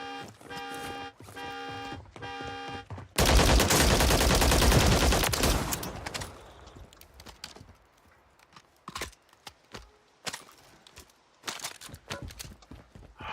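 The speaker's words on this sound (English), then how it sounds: "Why are you shooting at me?" Video game gunfire aimed at the player: a loud, dense burst of shots after a rhythmic patterned sound, then scattered sharp cracks at varying distances that trail off into sparse, fainter pops.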